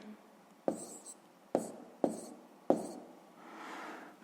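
A pen or pencil scratches out a math answer on paper in a few quick strokes, close and quiet, with no talking.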